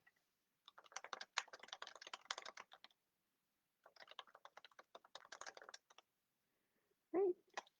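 Computer keyboard typing comes in two bursts of quick, close, light clicking with a pause between, then a short louder knock at the end; no one speaks.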